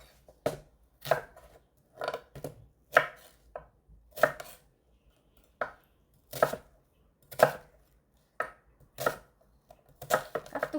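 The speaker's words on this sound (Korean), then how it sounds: "양파 하나예요. 그렇게 크지 않은 거 200g 정도 돼요." A kitchen knife chops a small onion of about 200 g on a cutting board while kkakdugi is being made, a dozen or so crisp, evenly spaced thuds, close and clear, with no talking.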